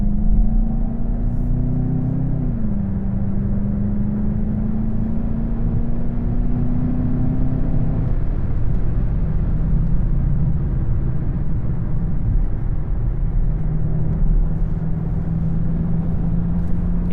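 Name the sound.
Volkswagen GLI accelerating onto the highway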